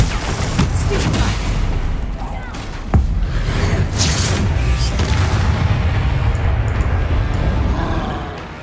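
Confringo spell blasts in Hogwarts Legacy, a dense loud barrage of booming impacts and crackling bursts with one sharp crack near the middle, mixed with chaotic combat noise and voices.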